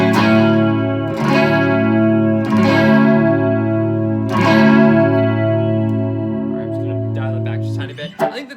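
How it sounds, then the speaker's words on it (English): An electric guitar with a chorus modulation effect plays sustained, shimmering chords, struck roughly every one and a half seconds, loud and close, fading into quieter plucks at the end. "let me see a little bit more chorus"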